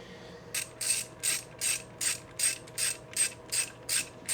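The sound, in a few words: ratchet wrench tightening supercharger bolts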